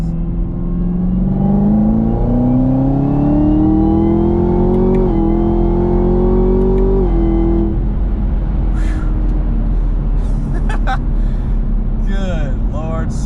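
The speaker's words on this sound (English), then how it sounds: "So you do hear a little bit of supercharger whine on that." Supercharged ZL1 Camaro engine with a new cold air intake revving up steadily, its pitch climbing with a thin supercharger whine on top, then settling back to a lower rumble; loud and close throughout.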